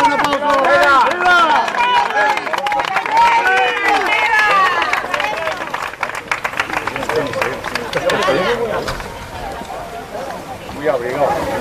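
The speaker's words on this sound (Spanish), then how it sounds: "un aplauso a Madrid" An audience claps and cheers in a lively, sustained burst alongside a crowd of overlapping voices and shouts, the clapping thinning toward the end.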